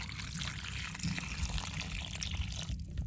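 Ripe mangoes are washed in water, with steady splashing and trickling that runs continuously at close range, with no talk.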